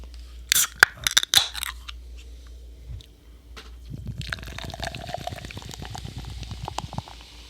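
A hazy IPA poured from a teal aluminium can: sharp crack and hiss of the can opening, then a steady gurgling pour into a glass with fizzing foam, close and fairly quiet.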